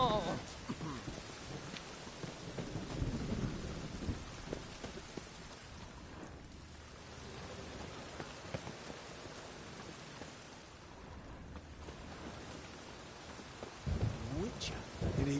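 Steady rain and rolling thunder in the fantasy video game The Witcher 3, a dense wash of downpour with low rumbles, fairly quiet, with talk over it.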